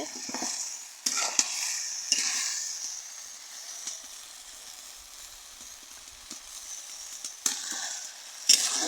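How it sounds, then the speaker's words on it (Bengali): Vegetables being stirred and fried in a pot in a village kitchen, with a soft steady sizzle and several louder scraping stirs at intervals. "রোদ আছে দেখে কেমন লাগতেছে সবজি কষানো হয়ে গেছে"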